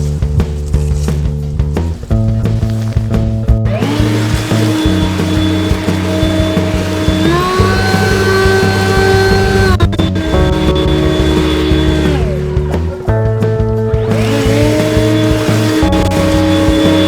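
A Ryobi 40V 550CFM cordless leaf blower blows leaves across grass, a loud continuous motor whine and rushing air that rises and falls in pitch as it surges and eases, with no talking.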